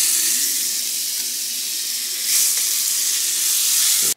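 Butter sizzles in a hot pan still greasy from freshly cooked bacon, a steady, loud, close hiss running without pause and briefly swelling partway through, with no voices.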